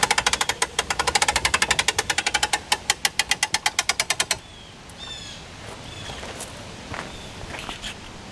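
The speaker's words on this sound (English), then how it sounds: "To crank the top of the pop-up up, we take our hand crank, put this end in here," A hand crank turns to raise the top of a pop-up tent trailer, producing a fast run of regular clicking ratchet strokes for about four seconds, followed by quieter outdoor ambience with a few faint chirps.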